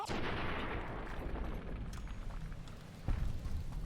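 Gunfire in Fallout New Vegas: a dense, sustained low rumble of shots with a sharper loud blast near the end, no voices.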